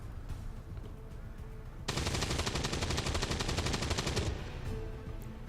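Vector rifle firing in XCOM 2, a rapid sustained burst of automatic gunfire lasting over two seconds with a fast, even rattle, loud and close against a low ambient background.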